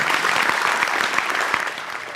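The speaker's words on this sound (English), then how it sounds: "Give a round of applause for Doc." Steady applause from an afternoon open-forum audience, dense and even clapping filling the room at close range for its whole length, with no voices standing out.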